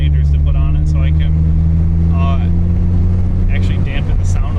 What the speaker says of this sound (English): the sound of the exhaust from the outside is so mature